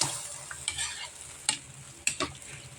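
A utensil stirring cream into a pork tongue dish in a pan, with scraping strokes and soft sizzling at a close, moderate level, and no talking.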